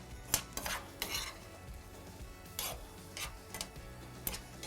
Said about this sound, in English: Throw those in, give it all a stir, and then we're just going to soften the onions and the peppers.